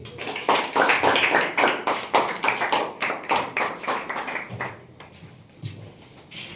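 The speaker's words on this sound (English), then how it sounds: "Please clap for him." Students in a classroom clap for a classmate invited up to speak, a dense burst of hand claps that thins out and fades into a few scattered claps toward the end.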